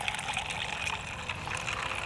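Ginger ale and grape juice are poured into a glass for a cocktail on a golf course, making a steady, close liquid trickle with light fizzing for about two seconds.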